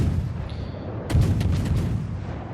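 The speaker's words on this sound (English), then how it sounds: "Gonna give this Kaiser some HE shells." A warship in World of Warships fires high-explosive shells at an enemy Kaiser battleship. A deep booming salvo of several rapid cracks lands over a constant low rumble of engine and sea noise.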